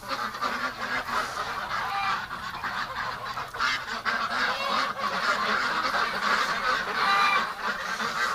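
Ducks, including Muscovy ducks, call noisily in a pen, a dense overlapping chorus of honking and quacking that stays loud and close throughout.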